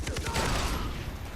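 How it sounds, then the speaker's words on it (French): Grenades exploding in the Far Cry 3 map editor, a quick burst of close, loud detonations with crackling debris that fades into a rumbling tail. "Je vais lui mettre plein de grenades"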